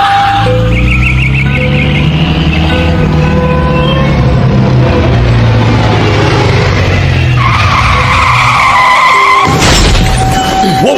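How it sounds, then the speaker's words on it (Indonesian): A car brakes suddenly and skids, a loud sustained tire screech over rumbling engine noise, ending in an abrupt crash-like burst near the end; no talking. "Tuh tingali mobil urang jadi rusak gara-gara didinya ngarem ngadadak."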